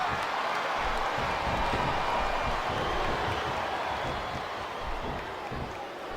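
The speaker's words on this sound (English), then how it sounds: "Sounds like this crowd's got something on their minds, King." A large wrestling arena crowd in the video game Smackdown vs Raw 2007 roars in a steady, washing din with scattered clapping, loud and continuous without a break.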